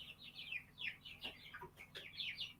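Several bird calls from a pet chicken kept indoors, a run of short, bright squawking notes repeating in quick bursts, close and fairly clear over a quiet room.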